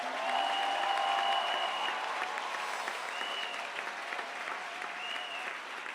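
A church congregation applauds Jesus at the SPAC 2022 gathering: steady, dense clapping that fills the whole stretch, loudest early and easing slightly, with a few sustained tones ringing above it.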